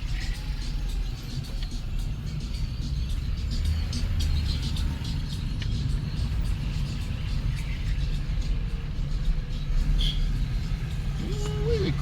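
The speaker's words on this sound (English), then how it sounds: "It's a lot of traffic." Heavy road traffic on the Jomvu–Mariakani road rumbles on steadily, with a low continuous roar of vehicles and engines heard from inside, and a brief rising engine note near the end.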